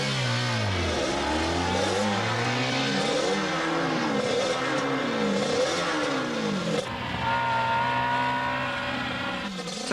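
A car accelerating hard around a race track, its engine revving up and down through repeated gear changes with rising and falling pitch, loud and continuous from start to finish.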